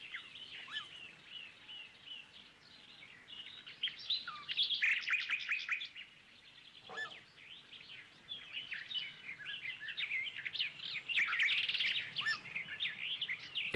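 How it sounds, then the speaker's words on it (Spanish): An Amazonian harpy eagle in the Ecuadorian Amazon gives high, thin screeching calls in bursts, layered with other chirping birds in a lively forest chorus at moderate distance. "El chillido de estas arpías amazónicas alertaba a los poblados de los indios guaraní de la presencia de enemigos."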